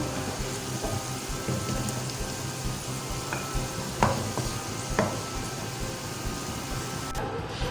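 Onion and cumin seeds fry in a pan for white chicken korma, a dense steady crackle resembling rain, with a few brief clicks of utensils.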